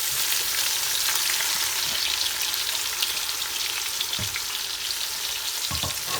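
Onions fry in hot oil with whole spices for Karachi chicken biryani, a steady close sizzle with a few stirring clanks and no talking.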